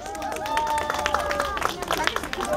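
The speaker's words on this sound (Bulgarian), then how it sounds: "сега всички ще ръкопляскат" A live audience at a Santa Claus show in Sofia claps in a dense patter of applause, mixed with a tonal, voice-like sound and crowd noise.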